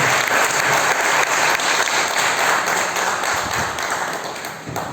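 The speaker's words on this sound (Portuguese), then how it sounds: "que você possa aplaudir fortemente a Cristo" Church congregation applauding loudly and continuously, a dense close wash of clapping that fades slightly toward the end.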